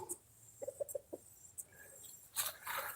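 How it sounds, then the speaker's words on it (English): Small mixed bantam roosters cluck in short, quiet bursts with brief gaps between them, mixed with a few higher chirps and scratchy rustling nearby. "I've got these mixed Bantam roosters."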